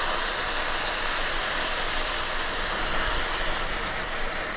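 Hot beef stock hits a pan of toasted risotto rice with a loud, steady steaming hiss and sizzle that holds evenly throughout, close up and with no voices.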